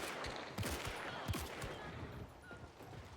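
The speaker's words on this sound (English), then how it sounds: "He did get shot at" Gunfire in a first-person shooter video game, a rapid burst of sharp shots at moderate distance, several cracks clustered in the first second and a half, then scattered fainter pops.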